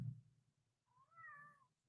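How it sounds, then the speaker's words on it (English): A single drawn-out cat meow at a door, fairly close but quiet, after a soft thump; no clawing is evident. "I don't know if you can hear her meowing and clawing at the door."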